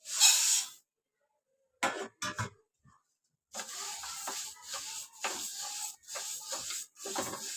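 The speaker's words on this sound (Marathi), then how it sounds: "मुगाची डाळ घेतली आहे ही डाळ आहे ना भाजून घेणार आहे" Moong dal is dry-roasted in a pan and stirred constantly, heard as intermittent dry scraping and rustling strokes separated by short silent pauses.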